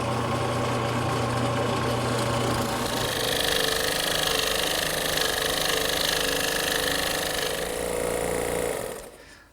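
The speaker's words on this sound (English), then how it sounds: "I like to cut those at the drill press." A drill press whirs continuously as it bores holes through wood, a loud, steady mechanical drone that grows brighter partway through, then winds down and stops.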